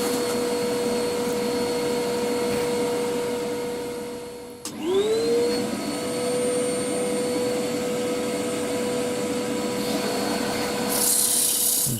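Sandpaper at 120 grit rubs the inside of a segmented wood bowl spinning on a lathe. A steady motor hum and whine sit under continuous abrasive scraping, which dips briefly midway and then resumes.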